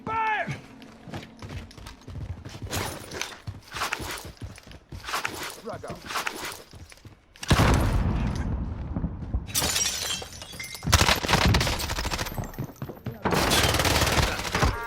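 Bursts of gunfire and shattering impacts in a video game firefight, loud broadband blasts in several clusters, heaviest in the second half, with voices talking over the action.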